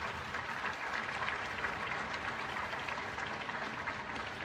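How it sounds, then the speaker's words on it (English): Spectators applaud hurling players at a junior hurling championship final between Kilmessan and Ratoath, a steady, dense wash of clapping heard at a distance for several seconds with no talk. "I'd like all the faces here to give the players a massive round of applause"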